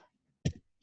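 A single short, sharp sneeze bursts out of near silence, close by and fairly quiet overall.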